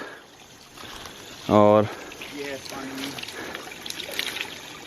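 Water trickles at a village spring, a high-altitude collection point where a stream feeds a catchment, making a soft steady wash beneath a voice that talks over it.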